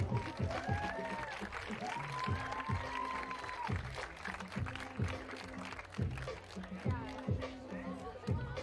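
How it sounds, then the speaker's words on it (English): Arena crowd at a FIBA 3x3 women's basketball event in Saskatoon applauding the volunteers, a broad wash of clapping mixed with cheering and chatter, under a loud announcer's voice and thumping music. "Let's get a round of applause for them."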